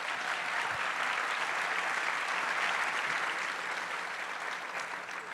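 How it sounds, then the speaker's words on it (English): A studio audience breaks into sustained applause, steady and full-bodied throughout, a broad wash of clapping hands with no voices on top. "I think that deserves a little applause"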